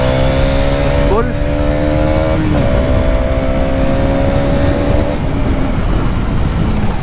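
Hero Xtreme 250R motorcycle engine revving and shifting smoothly on the road, steady harmonic engine tones rising and dropping between gears under continuous wind noise, with a voice talking over it.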